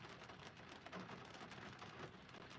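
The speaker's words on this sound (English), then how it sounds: "So it's raining out right now." Steady rain falling, a dense continuous hiss of drops on surfaces, moderately loud and unbroken, with no voices.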